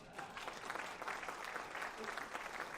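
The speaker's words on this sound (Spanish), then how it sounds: "Un aplauso para Víctor" An audience at an annual business meeting claps in a burst of applause that holds steady for a few seconds, with a voice faintly over it.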